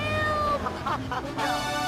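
A cat meows several times in a radio ad in the video game GTA 3, short rising and falling cries close up over a faint music bed.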